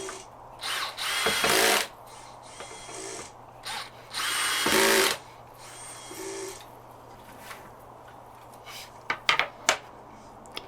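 A power drill drives screws into a Miller Marine fillet table in several short bursts of whirring, each a second or two long, separated by quiet pauses and a few light clicks near the end.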